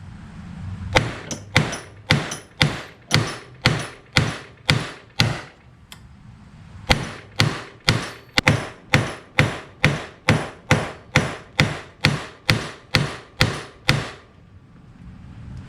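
A 2.5-pound sledgehammer strikes metal laid flat on an anvil in a steady run of sharp, ringing blows, about two per second, with a brief pause partway before the rhythmic hammering resumes, loud and close.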